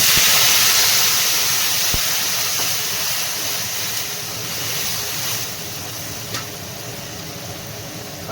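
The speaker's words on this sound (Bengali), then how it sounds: "সবজিগুলো কিন্তু পুরো ভাজা ভাজা হয়ে গেছে এবার আমি গরম জল দিচ্ছি" Hot water poured into a pan of vegetables already fried crisp, cooking pumpkin greens, giving a steady loud hiss and rush of steam that slowly eases over several seconds, with a couple of faint clicks.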